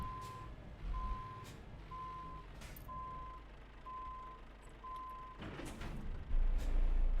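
Reversing beeps from a truck in a trucking simulator game ring out as six evenly spaced steady tones over a low engine rumble, followed by louder engine noise.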